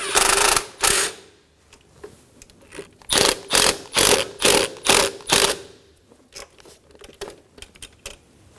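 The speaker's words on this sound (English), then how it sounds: "Tighten down the clamp on the throttle body." Hose clamp being tightened on the throttle body of a 2013-2017 Honda Accord 2.4L, giving loud, close ratcheting bursts, a rapid run of about seven clicks in the middle and softer clicks after.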